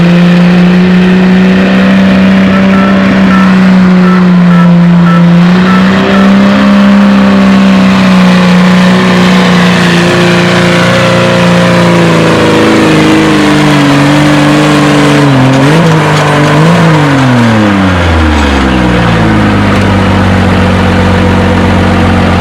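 Ford pulling truck in the 4000–4250 lb class, engine roaring loud and close at full throttle, pitch climbing and wavering, then dropping into a deep rumble near the end.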